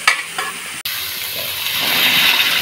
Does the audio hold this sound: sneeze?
no